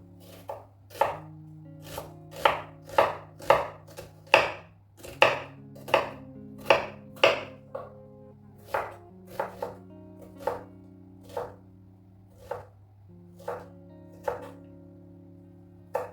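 A knife dices an onion on a cutting board in sharp, evenly spaced knocks, about two per second, close and clear against a quiet kitchen background.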